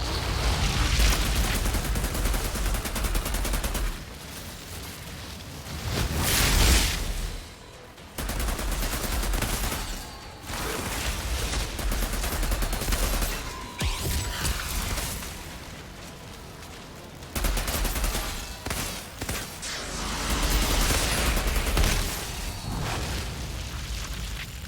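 Thermal bombs in the survival game Valheim: a long run of heavy, booming explosions and crackling blasts, loud and dense, rolling one into another with short lulls, no talk.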